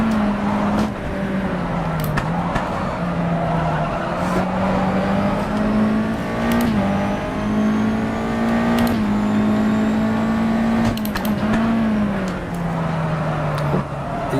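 A USF2000 race car engine in rFactor 2 hums steadily at the Botniaring circuit, its pitch dipping and rising with gear changes and throttle over a continuous close drone.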